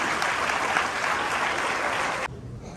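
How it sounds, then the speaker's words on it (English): An audience at a school investiture ceremony applauds the newly elected council, a dense, steady wash of clapping that cuts off abruptly near the end, leaving quiet room tone. "let's have a huge round of applause for our newly elected council."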